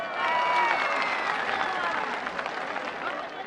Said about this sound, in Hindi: भरपूर तालियां इनके लिए